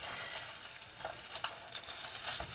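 Salmon croquettes frying in a pan give off a faint, soft sizzle with light scattered crackles and pops, quiet and alone.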